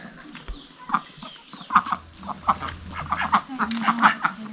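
Ducks quack in a rural village near Luang Prabang, Laos, giving repeated short nasal calls at close range, mixed with clucking fowl, while people talk nearby.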